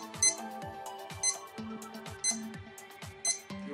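An electronic alarm sounds nearby from a digital radio-controlled alarm clock's test button, in a looping pattern of bright beeping tones, repeating about once every second.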